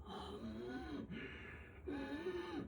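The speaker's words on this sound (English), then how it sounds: "There's a yoga practice called Ujjayi Pranayama, where you do that kind of, you activate that kind of breathing." A person demonstrates Ujjayi Pranayama yogic breathing, two slow, throaty constricted breaths with a raspy, ocean-like hiss, close and alone.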